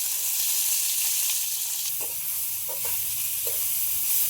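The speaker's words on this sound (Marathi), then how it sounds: "आपण हे गवाराच्या शेंगा जे कापले ते आपल्याला तेलात तळून घ्यायचे" Cut cluster beans (gawar) fry in hot oil with a continuous hissing sizzle, broken by a few soft stirring knocks partway through.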